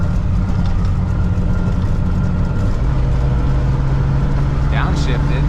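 A Toyota FJ62 Land Cruiser engine running in drive, a steady loud low drone heard from inside the cab with a pitch step as it shifts, a voice briefly audible near the end.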